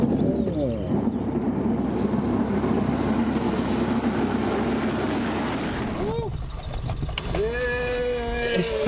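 Small propeller plane landing, a loud continuous engine drone with scraping and rumbling that cuts off abruptly, followed by fainter engine tones while people talk over it.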